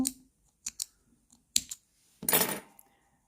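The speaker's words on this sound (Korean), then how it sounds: "그 다음 한 코를 뜬 다음 자 가위로 자르고 마무리할 거예요" Scissors snip knitting yarn while finishing a child's knitted vest: a few sharp, isolated clicks and snips close by, ending in a longer rustling cut, with quiet gaps between and no talking.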